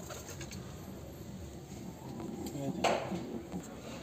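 Pigeons in a breeding loft give low, soft coos under steady background hiss, with a brief clatter near the middle and a faint voice in the room.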